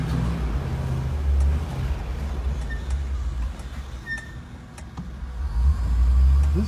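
A 2019 Land Rover Defender Arkonik custom build on a road test after a service, its engine rumbling low and unsteady as it struggles near stalling, heard from inside the cabin with faint clicks and rattles.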